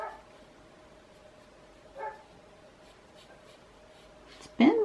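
A dog barks a few times at a distance, short isolated yaps with long quiet gaps, ending in a louder, closer bark.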